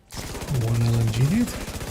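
A light machine gun in The Division video game fires a rapid, evenly spaced stream of shots, heard close and sustained, while a voice talks over the gunfire.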